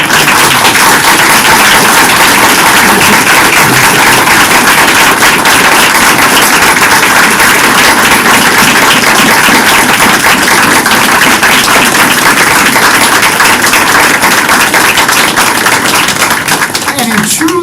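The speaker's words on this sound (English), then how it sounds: "please join me in a round of applause" Round of applause from the audience at a school district board meeting, honoring a deputy: dense, steady clapping filling the room for the whole stretch, loud and continuous with no pauses.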